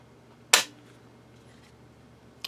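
A single sharp click from a dry-fire trigger pull on a Mossberg AT rifle, close and crisp, followed by a fainter click a couple of seconds later.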